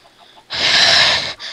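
A chicken in the Minecraft video game lets out a loud, breathy squawk lasting under a second, with a shorter cluck right after it.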